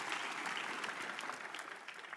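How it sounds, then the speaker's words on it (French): A church congregation applauds during a sermon, giving a steady, dense wash of clapping that carries through the whole stretch at moderate volume with no speech over it. "Alors applaudissez pour lui à nouveau."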